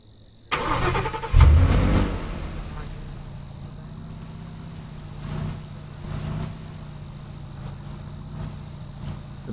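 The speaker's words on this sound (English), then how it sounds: "I got the truck here." A truck engine in the Roblox game Aftermath starts with a loud burst, then settles into a steady, low idle rumble that continues under the scene, with brief voices and game sounds in the background.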